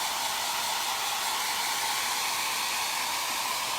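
A hair dryer blows steadily on freshly applied Toscana milk paint, a continuous close airy whoosh with no talk over it.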